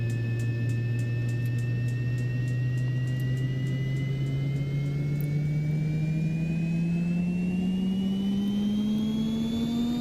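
Simulated turbine engine in X-Plane 12 spooling up during start, a loud steady whine with a low tone rising gradually in pitch and a higher harmonic climbing alongside, continuous for ten seconds with no talk.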